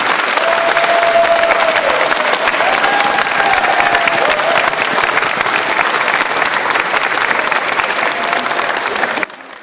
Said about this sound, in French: On peut déjà applaudir parce qu'ils nous accueillent.